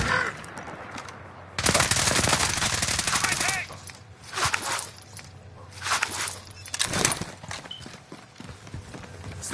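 Gunfire in a video game firefight: bursts of automatic weapon fire, one long rattling volley followed by several shorter bursts and scattered shots, loud and close with quieter gaps between.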